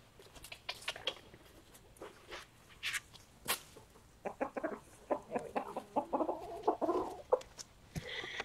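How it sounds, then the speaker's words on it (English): A rooster and hens cluck busily nearby, a burst of rapid clucks building toward a louder chorus, with light scratching and rustling. "That biggest one there that you hear doing all the clucking"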